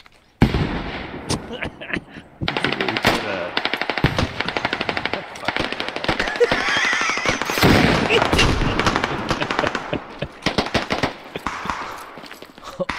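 Heavy automatic gunfire and bursts in the military shooter game Squad, dense rapid volleys with sharp cracks that come and go over several seconds, loud and close, with occasional voices underneath.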